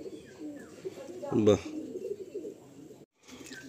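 A pet kalanka pigeon kept at home gives a low, soft cooing near at hand, with a short exclamation from a person partway through and a brief dropout near the end.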